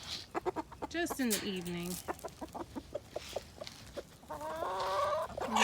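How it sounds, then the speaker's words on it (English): Chickens clucking in a farmyard in early spring, several birds near the microphone with short repeated clucks and squawks mixed with a person talking. "Look at that chicken right there."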